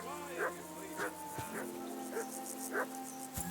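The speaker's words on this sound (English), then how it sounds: "Quiet, you wee bit hound. Do something with that mutt, Henry." A dog barks in Kingdom Come: Deliverance II, a handful of sharp barks spaced about half a second apart over chirping crickets, with a voice speaking around them.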